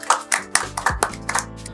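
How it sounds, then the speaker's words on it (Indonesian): A short burst of hand clapping, about eight close, sharp claps in an uneven rhythm, loud and with no talking over it. "Tepuk tangan dulu"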